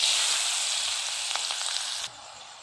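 Onions sizzle and fry in hot oil left from frying potatoes for a meat curry, a steady loud hiss with a few stirring clinks before the sizzle drops off abruptly near the end.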